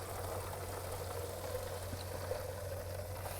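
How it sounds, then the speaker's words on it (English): Tap water pours steadily into a milk bottle, a continuous close rushing splash over a low background hum. "so just fill up your milk bottle with some normal tap water"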